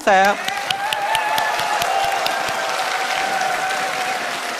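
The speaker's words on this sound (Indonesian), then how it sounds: "Silakan tepuk tangan." A crowd applauds steadily at a 2014 Indonesian presidential debate, a dense wash of clapping that carries on evenly, with a short electronic tone at the very start.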